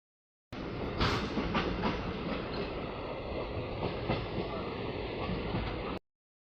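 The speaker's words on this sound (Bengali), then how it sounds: "সো ফাইনালি আমাদের কুস্তাহাট থেকে ট্রেনটি ছেড়ে দিয়েছে।" The 18035 Kharagpur–Hatia Express pulls out of Kustahat station with a loud, steady rumble and rhythmic clickety-clack of wheels on rails, heard continuously from inside the train.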